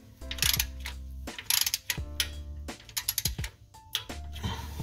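A torque wrench tightens transmission oil pan bolts on a 1983 Buick Regal G-body, with close, sharp ratcheting clicks coming in short uneven bursts and pauses.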